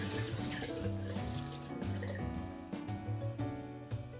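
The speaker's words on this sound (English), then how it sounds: "I'm gonna take my washcloth with some warm water." Warm tap water splashes steadily from a faucet onto a washcloth, a continuous bright rush with shifting gurgles under a faint background tone, close and unbroken for several seconds.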